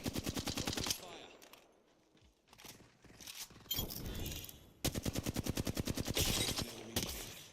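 Rapid automatic gunfire in Apex Legends, loud crackling bursts of evenly spaced shots with a short lull of scattered single shots in the middle, then sustained firing resumes.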